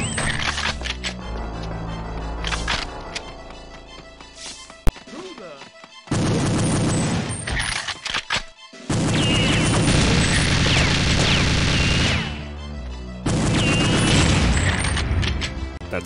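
Gunfire and blasts from the shooter game Perfect Dark, 1964 mod, during a turret fight: loud bursts of booms and crashes arrive in dense blocks separated by brief quieter gaps and one sharp isolated crack.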